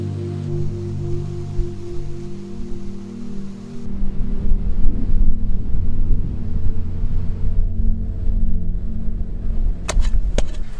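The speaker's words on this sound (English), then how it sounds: "Even if it is a little windier than I'd like." Wind blows at a snowy winter camp, a close, low rumbling roar with gusty buffeting that grows stronger partway through, with a couple of brief sharp clicks near the end.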